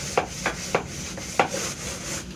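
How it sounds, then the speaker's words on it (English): Short rubbing strokes of hand sanding across a painted cabinet door surface, five quick scuffing passes in a loose rhythm, close and moderately quiet with no talking. "When you get up to the edges here, you got to cross sand just a little bit."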